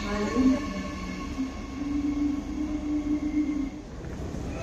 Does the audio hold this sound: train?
yes